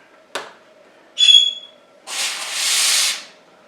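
Rocket Appartamento espresso machine steam wand purging: a short click, a brief squeaky hiss, then a steady, close, loud burst of steam lasting about a second before cutting off.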